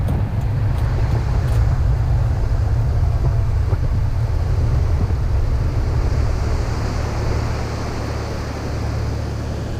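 A car rolls along firm beach sand beside the ocean in Japan, its steady low drone blending with continuous surf and wind buffeting the microphone, no voices.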